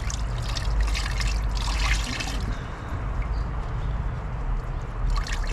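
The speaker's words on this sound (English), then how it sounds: "Squeeze out some of this excess rinseless in here." Excess rinseless wash solution is squeezed from a wash mitt into a bucket, a close, steady trickle and splatter of liquid lasting several seconds, loudest at the start and again near the end.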